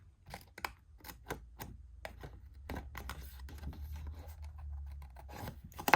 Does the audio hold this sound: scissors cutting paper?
yes